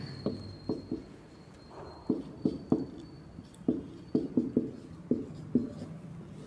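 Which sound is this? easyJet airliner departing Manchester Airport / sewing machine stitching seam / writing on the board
writing on the board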